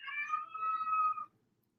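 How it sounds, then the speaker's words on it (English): A house cat gives a drawn-out, baby-like meow lasting about a second, fairly close and clear, with faint background noise and no talking. "Sorry, that was my cat."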